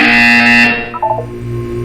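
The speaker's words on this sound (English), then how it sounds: "You will hear a buzzer." A loud electronic buzzer from the game Portal 2 sounds as a steady tone for about two thirds of a second, then cuts off, followed by quieter game tones and a low background hum.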